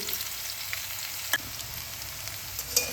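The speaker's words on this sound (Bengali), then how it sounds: "এখানে মিডিয়াম সাইজের 2টো পেঁয়াজ কুচিয়ে রেখেছি, আমি এর মধ্যে দিয়ে দিচ্ছি।" Two medium chopped onions frying in a pan for a spring onion curry with cauliflower, giving a steady, even sizzle throughout with a few sharper crackles and scraping stirs, close and moderately loud with no talking.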